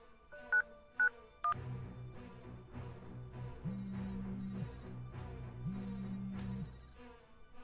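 Telephone keypad dialing tones from a horror video game about a killer clown in a house, a quick burst of three clear beeps and later a repeated ringing pattern, over a low background hum and rumble.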